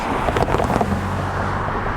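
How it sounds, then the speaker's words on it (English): Cars pass along a road near a railroad grade crossing, a broad roadway whoosh that peaks early and settles into a steady rumble, with some wind buffeting the microphone. "Wait for these cars to pass by 1 second here."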